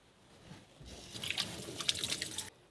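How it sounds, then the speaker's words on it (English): Running tap water over hands at a kitchen sink, a soft steady splashing hiss with small drips and squishes, faint and close, starting after a moment and stopping abruptly. "Okay, wash my hands and we'll move on to the seasoning."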